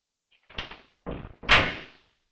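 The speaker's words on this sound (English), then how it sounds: "Risho, open the door, please." A door handled in a tense police standoff, with three quick bursts of wood and latch noise, a thump then a louder bang, fairly near and with no talk.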